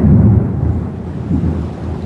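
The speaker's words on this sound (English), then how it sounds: "Is it raining there? It is. And all this lightning" A deep, rolling rumble of thunder with steady rain hiss during a storm, loud and close, with no talking.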